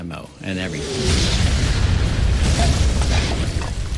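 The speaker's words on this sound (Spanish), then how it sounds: "Cuando le di, explosionó con toda la munición dentro." A tank explodes with its ammunition inside, erupting into a loud, deep, sustained roar and rumble that fills the whole stretch without letting up.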